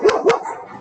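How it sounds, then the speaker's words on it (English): Two sharp dog barks in quick succession, close and fairly loud, followed by a short fading tail. "And now the dogs."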